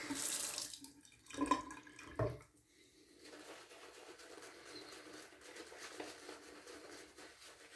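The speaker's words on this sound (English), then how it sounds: "Add a little bit of water." Water from a tap splashes briefly into a sink in a few short bursts while shaving soap is lathered, followed by faint wet rustling and light patter under a quiet background.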